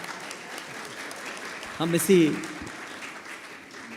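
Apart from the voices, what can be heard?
audience applause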